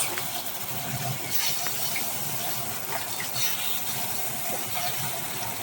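Bata fish sizzling as it goes into hot mustard oil in a pan, a steady bright hiss with occasional crackles and pops, close and fairly loud, no talking.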